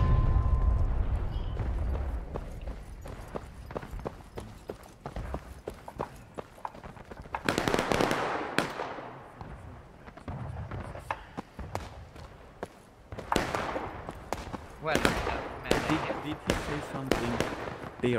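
Artillery cannons firing in the Civil War game War of Rights, with several heavy booms and rumbling blasts spread through the clip alongside softer background noise, loud and fairly close.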